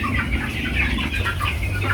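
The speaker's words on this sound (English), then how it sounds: "We deal in broilers." Broiler chickens on a Ugandan poultry farm cluck in a dense, continuous chorus, many birds close by and layered over one another with no talking.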